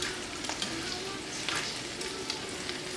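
Breaded pieces sizzle steadily in oil in a frying pan, a continuous close crackle with a few louder clattering bumps as they are gently flipped.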